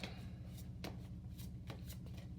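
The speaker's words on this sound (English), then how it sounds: "So I'm still shuffling these cards here." A deck of cards is shuffled by hand, quick riffling bursts and soft slaps repeating close up over a low background hum.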